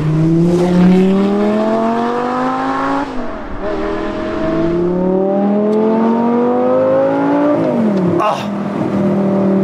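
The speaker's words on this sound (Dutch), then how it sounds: "En dan die V10." A manual-transmission Audi R8 Spyder V10 revs loudly and close by. Its engine note climbs steadily, drops sharply at gear changes, then climbs again in repeated pulls.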